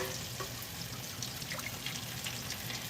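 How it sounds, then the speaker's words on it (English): Water is poured from a container into a cooking pan during home cooking, a faint, continuous trickle and splash heard close by over a soft background hiss. "Pour a little of this water in here."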